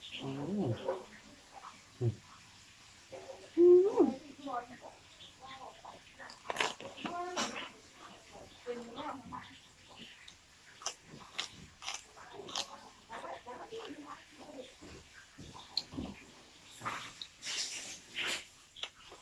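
Someone eats sticky rice with grilled fish, giving faint, close, intermittent chewing and biting sounds while people talk throughout.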